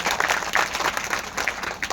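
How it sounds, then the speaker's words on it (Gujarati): An audience claps steadily at a live village comedy program, a dense continuous patter of many hands filling the space from start to finish. "એમને એક જોરદાર તાળીઓથી વધાવો થાય"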